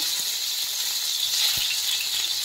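Tomatoes hit hot oil already holding dried chilli and whole cumin, and a loud, dense, continuous sizzle follows, close and with no one talking, plus a faint thump partway through.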